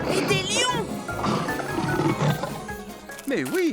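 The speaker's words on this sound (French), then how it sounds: "Et des lions!" Lions roaring in the French cartoon Tracteur Tom, heard as a few rising and falling animal calls amid lively music, with a voice speaking over part of it.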